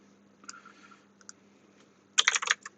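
Fingers tap a computer keyboard, a few sparse clicks followed by a quick close burst of keystrokes against a faint steady hum.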